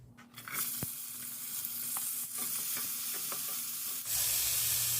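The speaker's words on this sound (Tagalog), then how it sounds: "Tapos, igisa na natin ang bawang at kamatis." Garlic and tomato sizzle and fry in a little oil in a hot pan, a steady close crackle with a few stirring scrapes, growing louder near the end, no voices.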